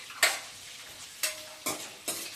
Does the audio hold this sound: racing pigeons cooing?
no